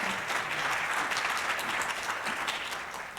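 Audience applause at a plenary conference lecture, a sustained wash of many hands clapping together, steady and fairly full before tapering off slightly at the end.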